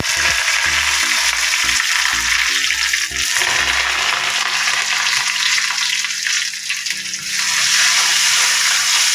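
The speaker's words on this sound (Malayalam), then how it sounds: "കടുകിട്ട് പൊട്ടിക്കഴിഞ്ഞാൽ ചുമന്നുള്ളി വരുന്നത്." Mustard seeds, shallots and curry leaves fry in coconut oil for a jackfruit-seed and mango curry, with a loud, continuous sizzle and crackle throughout and no voices.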